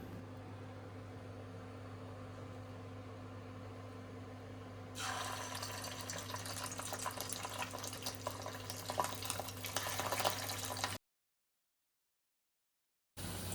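Catla fish roe fritters dropped one by one into hot oil mixed with mustard oil; a low hum gives way to a loud, crackling sizzle that holds for several seconds, then cuts to silence.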